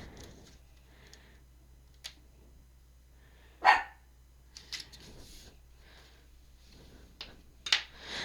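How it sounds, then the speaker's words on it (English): A dog barks a few times, sharp and fairly close, with quiet stretches between the barks. "Don't start barking in the middle of my video now, Lily Poo."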